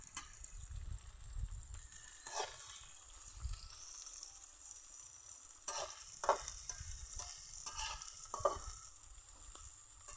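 Onion, garlic, chili and ginger sauté in a pan for chicken tinola, a soft continuous sizzle with a few louder stirring scrapes, faint and close with no talking.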